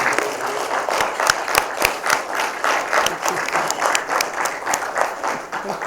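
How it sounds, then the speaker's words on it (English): Sustained applause from an audience at a church pastoral planning meeting, dense overlapping claps with a few sharper individual claps standing out, steady and fairly loud throughout. "give one more round of applause for everything they've done"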